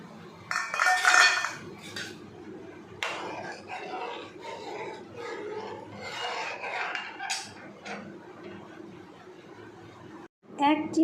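Ground rice going into thickened milk in a pot for mango phirni: metal spoon clinks and scrapes against the pot in bursts, close and moderately loud, with a person talking over much of it.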